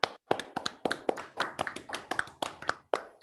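An audience claps after a talk: uneven, fairly close handclaps in a steady, sparse rhythm from a small group, moderately loud, with no voices over them.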